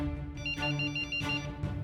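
A voice imitating a mobile phone ringtone by mouth, a bright tonal melody repeating in short phrases, loud and close with no other sounds.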